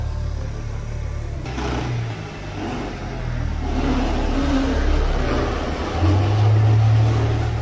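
A 2021 Boost Blue Honda Civic Type R pulls away on delivery, its engine revving and rising steadily in a low, continuous rumble that grows louder toward the end.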